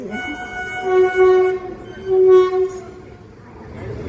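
A passenger train horn sounds in two loud, sustained blasts with a short gap between them, heard close by from a train travelling to Ranuja, with a rumbling rail background throughout.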